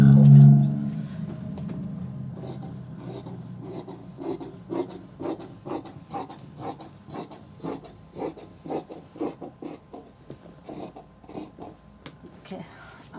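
Scissors cut through cotton salwar fabric on a table in a steady, close rhythm of rasping snips, one after another, quiet and dry, after a brief low hum at the start.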